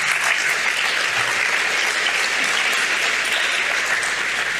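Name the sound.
audience applause at summit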